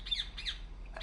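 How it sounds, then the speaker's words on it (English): A bird squawks in the video game Republique: three sharp, shrill squawks in quick succession, close and fairly loud over a faint low hum. "What the hell's up with that bird?"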